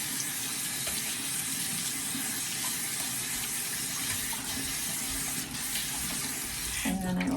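Tap water runs steadily into a sink to rinse a cloth, a continuous close hiss and splash that carries on throughout, with a brief change in the flow at the very end.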